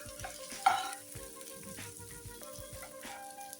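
Jackfruit pieces fry in a pan and are stirred, giving a quiet, soft sizzle broken by short scraping strokes, with faint tonal music in the background.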